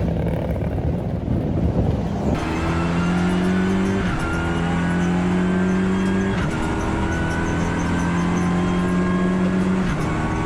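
A Renault Clio Cup race car lapping the Barcelona circuit, its engine droning loudly at close range and climbing steadily in pitch through repeated gear changes with brief dips between shifts, with no other sound over it.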